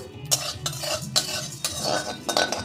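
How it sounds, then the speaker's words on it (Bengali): Whole spices being fried dark in a pan for a Nagpur-style mutton dish, heard as a close, gentle sizzle under repeated spoon scrapes and stirring clinks against the metal, with no talking. "এই মশলাটাকে আমি ভেজে নিচ্ছি খুব কালো করে ভেজে নিয়েছি"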